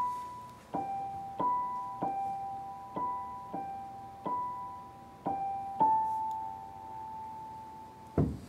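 A piano theme imitating wind chimes on a porch, a soft, faint sequence of about a dozen evenly spaced bright notes, each ringing briefly, ending on a long held note, with no voices.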